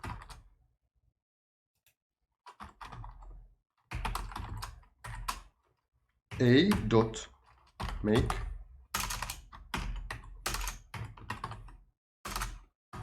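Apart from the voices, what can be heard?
typing on a computer keyboard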